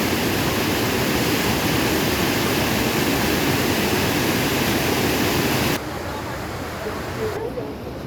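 Rushing water of the Tomara waterfall in Giresun, a loud, steady broadband roar that drops to a softer, more distant wash near the end.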